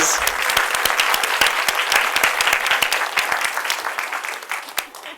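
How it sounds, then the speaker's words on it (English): Big round of applause from a live audience at a maker fair demo of a Glowforge laser printer, steady dense clapping that thins and fades toward the end, with a faint voice briefly over it. "Big round of applause."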